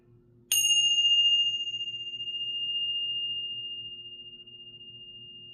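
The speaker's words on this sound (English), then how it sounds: "let's do the bells." A single bright bell strike rings out close and clear, its pure tone sustaining and slowly fading over several seconds in an otherwise quiet room with a faint low hum.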